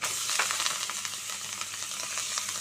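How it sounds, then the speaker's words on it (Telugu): Amaranth leaves frying in a hot pan with turmeric, a steady bright sizzle broken by scraping stirs, close and continuous with no talk. "ఇప్పుడు మనం తోటకూర అయితే దీనిలో వేసేసుకుంటాం అన్నమాట"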